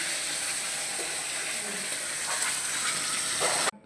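Onions frying in a pan as the base for a fish curry, a steady close sizzle and hiss running throughout without pause, with no voices over it.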